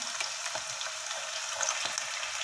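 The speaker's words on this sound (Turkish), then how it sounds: "patateslerimin hepsini yağına aldım" Potatoes fry in hot oil in a pot, giving a steady close-up sizzle with faint crackles and pops throughout, and no voices.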